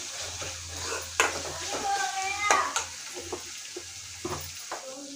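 Ginger garlic paste fries in hot oil, giving a close, steady sizzle with spatula stirring scrapes and clinks against the pan, while a person talks over it.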